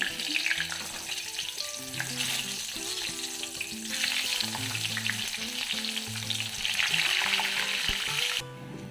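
Eggplant slices frying in hot oil in a wok, a steady dense sizzle with crackling spatter running throughout, close and moderately loud, with music playing underneath.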